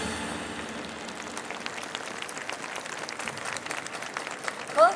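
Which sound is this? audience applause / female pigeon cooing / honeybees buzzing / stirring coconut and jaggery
audience applause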